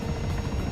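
Helicopter in the video game Arma 3, a steady close rotor thrum and engine buzz filling a brief stretch with no pauses or voices.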